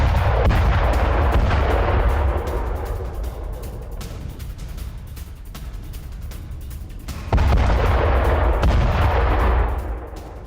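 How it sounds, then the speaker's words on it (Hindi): Explosions destroying a Hezbollah building in south Lebanon, heard as two heavy, sustained blasts with deep rumbling roar, loud and close, the second erupting sharply after a brief lull. "विस्फोटक धमाकों में तबाह हिजबुल्लाह की इमारत"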